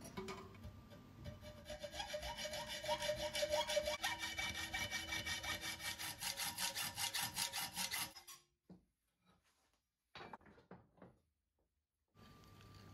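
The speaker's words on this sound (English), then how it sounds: "This is 8mm thick mild steel strip, and I'll be cutting it with my hacksaw in the vise." Hacksaw cutting 8mm mild steel strip clamped in a vise: steady rhythmic rasping strokes, close and loud for about eight seconds, then stopping, followed by a few brief handling knocks and scrapes.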